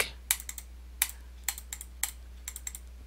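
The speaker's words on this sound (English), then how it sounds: "I'm going to type expenses parentheses in dollars." Scattered keystrokes on a computer keyboard, crisp clicks in short irregular bursts with brief pauses between words, close up and alone over a low steady hum.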